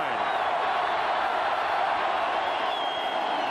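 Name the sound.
stadium crowd roaring at a college football game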